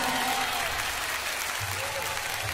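Dense applause from a concert audience at a live show in Japan, steady and loud throughout, with a faint voice in the background.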